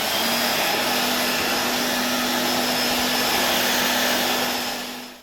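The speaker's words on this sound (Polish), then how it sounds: "tym odkurzaczu Hoover Constellation, który no jednak zwłaszcza u nas w Polsce jest urządzeniem bardzo rzadko spotykanym" A Hoover Constellation model 867A vacuum cleaner running at a steady, loud, continuous whine with a constant low hum, alone without talk, then the motor winds down at the very end.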